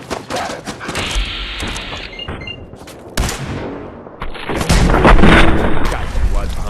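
A video game firefight with sharp gunshots and heavy booming explosions in irregular bursts, loud and close, with a voice speaking briefly between the blasts.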